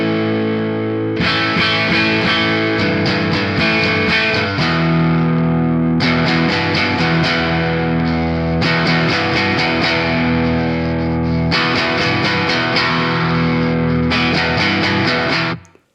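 Sustained electric guitar chords through a Rowin Blues Nano overdrive pedal and a Jazz Chorus amp ring out with a gritty overdriven tone and a slight shimmering chorus, strummed in long phrases, loud and alone.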